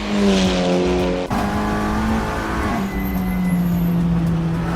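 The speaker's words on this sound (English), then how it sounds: "Engine sounds a bit low." A TCR race car engine in a virtual 24h Nürburgring racing game drones loudly and steadily, its pitch shifting as it revs and eases through gear changes, with no voices.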